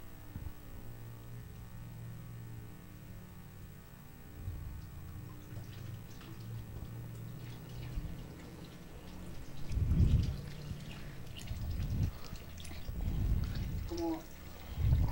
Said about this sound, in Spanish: se destapará el orificio, permitiendo el paso del agua